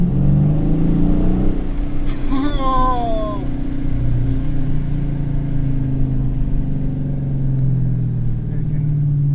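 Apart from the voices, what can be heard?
muscle car engine revving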